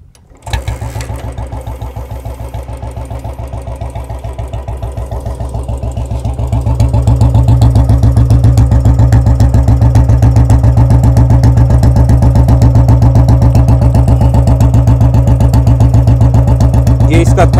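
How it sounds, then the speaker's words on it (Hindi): Royal Enfield Bullet motorcycle with a short bottle silencer starting and then idling nearby, its loud, rapid, even thump growing stronger after a few seconds and holding steady. "तो सबसे पहले मैं इसकी सुना देता हूँ आपको"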